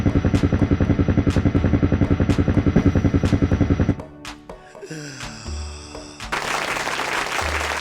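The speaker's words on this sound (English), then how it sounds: "just what everyone needs, a helicopter" A helicopter sound preset played on an Akai MPK Mini keyboard gives a fast, regular synthetic rotor chop for about four seconds, then breaks into scattered electronic tones and a hissy noise burst.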